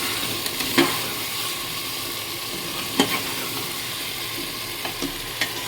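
Chicken legs frying in hot oil with a steady broadband sizzle, stirred now and then, a few sharper scrapes and pops standing out near and moderately loud.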